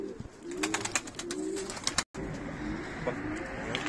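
Pigeons coo in a low, repeated, throaty rhythm at close range, with rustling and soft bird noises around them and a brief cut partway through.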